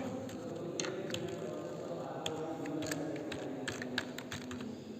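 Rapid, light keystrokes on a computer keyboard come in irregular bursts while records are typed into a MySQL table, quiet and close over a low room hum.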